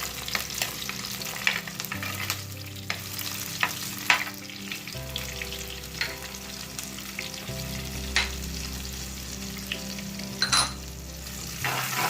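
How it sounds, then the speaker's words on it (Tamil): Onion and masala powder fry in oil over low heat for a fish kuzhambu, with a steady loud sizzle and repeated scraping strokes of stirring, close up, with no talk. "இது அந்த எண்ணெயில் 1 நிமிஷம் நல்லா ஃப்ரை பண்ணிக்கோங்க."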